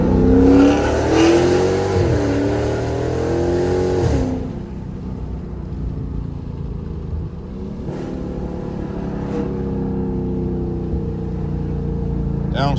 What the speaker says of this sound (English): Don't you just love the sound of muscle?